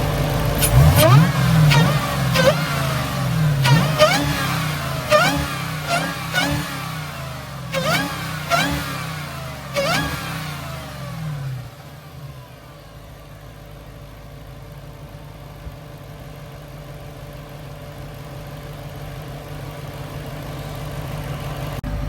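A Dodge Hellcat fitted with a cold air intake revs hard in a series of sharp, rising bursts, about eight throttle blips in quick succession, then drops to a low steady idle that rumbles on alone.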